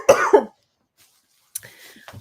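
A person with a months-long cough coughs twice in quick succession, close and loud, then after a brief silence a second harsher cough or throat-clearing follows.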